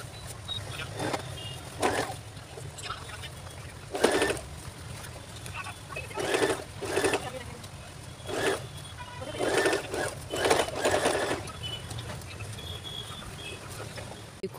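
Sewing machine stitching the sides of a homemade fabric school backpack, running in short repeated bursts of rapid whirring separated by quiet pauses, fairly faint and close.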